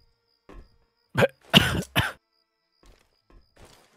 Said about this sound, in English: That cough was reassuring.